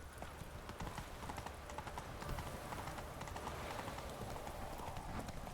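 Roach the horse gallops in The Witcher 3 with quick, steady clip-clop hoofbeats that run without a break across loud game ambience.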